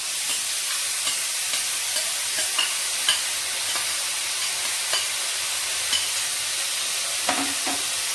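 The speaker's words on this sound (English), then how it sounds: "Yes, the oil is hot. Let's add the chopped onion to it." Chopped onion frying in hot oil for fish cutlets, a dense continuous sizzle with repeated light scraping strokes as it is stirred.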